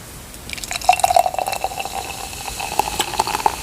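Beer poured into a glass at close range, a steady liquid stream with dripping and fizzing bubbles, no voices.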